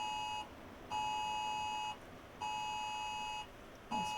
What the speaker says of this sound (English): Amber Alert.